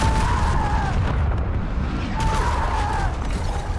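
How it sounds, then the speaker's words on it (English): A dense, sustained rumble of explosions and blasts fills the Call of Duty Black Ops match, consistent with an ICBM missile strike, loud and continuous with faint whistling tones riding above the roar. "And another ICBM missile kill."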